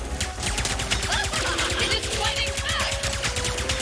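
Rapid bursts of blast rifle fire in a sci-fi shooter video game, a steady crackling barrage running throughout amid battle noise and faint voices.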